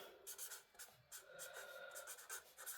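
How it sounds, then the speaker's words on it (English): A pen scratches across paper in quick bursts of strokes with brief pauses, close and quiet, steady light scribbling that runs the whole time without any voices. "Let me write that down for you."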